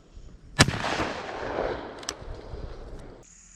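A single loud shotgun blast from a Tristar Upland Hunter EX at trap shooting, a sharp crack around half a second in followed by a long rolling echo across open ground, with a fainter second report later on.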